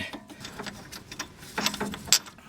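A wrench works a T55 bolt loose on the sway bar link of a 1997 Jeep Grand Cherokee ZJ, producing a quick series of close, small mechanical clicks and ratcheting ticks.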